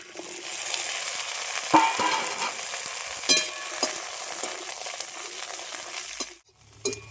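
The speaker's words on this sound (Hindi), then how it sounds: "तो भिंडी को चलाते हुए लगभग हमें 4 से 5 मिनट इसे भूनना है" Chopped okra (bhindi) sizzles steadily in hot oil for masala bhindi, with occasional clinks and scrapes as it is stirred. The frying ends abruptly near the close.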